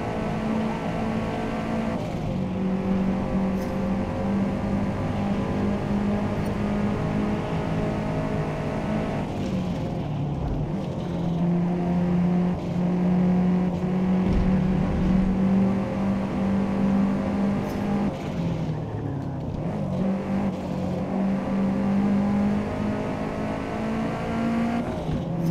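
Race car engine in Forza Motorsport on a hot lap, a loud continuous whine with steady harmonic tones that rise through the gears, dropping twice as the car shifts or brakes, with faint tire squeal and no talk.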